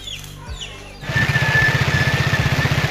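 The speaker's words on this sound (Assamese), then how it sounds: "glamour bike" A Hero Glamour motorcycle starts up and runs with a steady, pulsing mid-pitched engine throb while riding through heavy rain; the engine note comes in abruptly after a quieter opening and stays loud and close.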